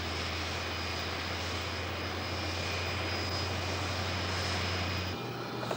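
Boeing 747-200 airliner easing back from its stand at Heathrow Terminal 4, giving a steady, fairly faint whine and low drone with tonal hum that shifts slightly near the end; no talking.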